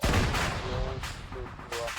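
Explosions and gunfire in the Arma 3 military shooter during a Ukrainian town assault, a loud sustained rumbling blast followed by further booming bursts, with faint radio-like voices underneath.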